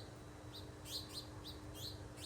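Small birds chirp in a Florida garden in early summer, short bright calls repeating every half second or so over a steady, faint outdoor hum.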